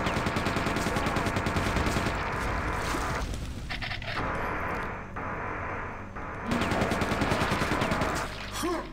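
Rapid machine-gun fire in Quake II 64 comes as dense, loud bursts of evenly spaced shots. It breaks off into quieter game sounds in the middle and then resumes near the end.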